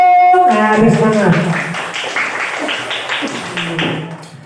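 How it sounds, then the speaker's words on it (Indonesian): Children in a classroom clap together in a rhythmic burst of applause, with their voices chanting and calling over it at close range throughout. "Oke, tepuk tangan yang mulia dong."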